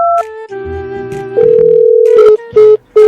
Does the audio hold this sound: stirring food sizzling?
no